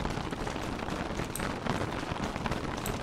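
In-game rainfall from Don't Starve hisses steadily as a dense, even patter at a moderate level, with no voices over it.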